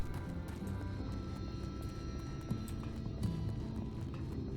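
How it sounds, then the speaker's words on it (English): An evil-looking dark horse mount gallops in Final Fantasy XIV, a quick rhythmic clip-clop of hooves under game music and ambience, fairly quiet and continuous with no talk. "I ride in the evil dark horse"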